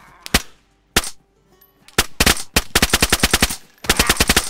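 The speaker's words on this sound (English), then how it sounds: "Somebody was still shooting over here after I popped him" Gunfire from the survival video game DayZ crackles loud and close: a few isolated shots, then rapid automatic bursts of evenly spaced cracks ending in another quick volley.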